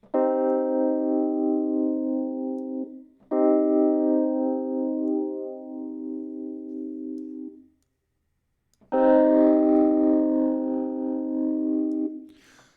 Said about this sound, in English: And phaser.